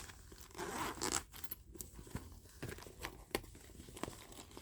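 A zipper on a bag's center pocket is pulled open in a series of quick, close scratchy bursts with brief pauses between them, and no one speaks.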